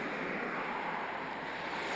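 Strong wind gusts buffet the microphone on a Peak District hillside, a steady, loud broadband roar with no pauses.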